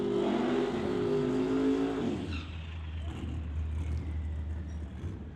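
A Chevy Malibu backup car at a drag race roars at high revs, its engine tone rising and then dropping off sharply into a lower steady rumble as it pulls away.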